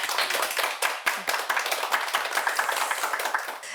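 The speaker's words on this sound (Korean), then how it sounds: "신부님께 큰 박수 부탁드리겠습니다" A round of applause from a small group after a priest's lecture, dense clapping that starts abruptly and continues steadily for a few seconds before easing slightly.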